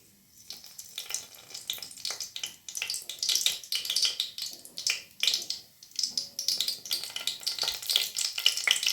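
Mustard seeds spluttering in hot oil in a pan, sharp irregular crackles and pops that come in quick bursts and stay close and lively throughout.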